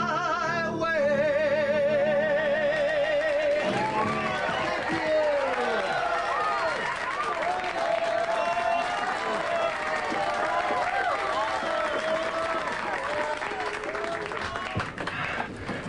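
A crowd applauding and cheering in a pub setting, a steady, dense wash of clapping and voices that carries on throughout, with whistles and chatter mixed in.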